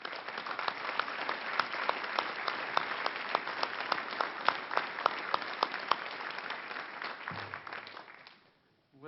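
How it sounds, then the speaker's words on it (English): Audience applause at a high school Kiwanis scholarship awards night, a steady crowd of clapping hands sustained for about seven seconds with sharp individual claps standing out, then fading away near the end. "Please give yourselves a big round of applause."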